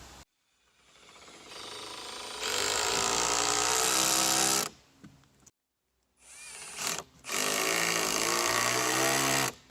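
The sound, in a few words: driving screws into plywood and floor joists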